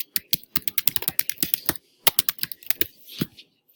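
Rapid typing on a computer keyboard, with dense bursts of crisp key clicks, a short pause midway, then more irregular tapping, all close and clear with no talking.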